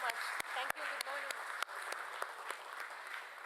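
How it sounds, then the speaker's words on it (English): An audience at a green municipal bond listing ceremony claps, with scattered sharp hand claps mixed with voices talking in a large room, moderately faint. "Let us have a resounding of claps for her."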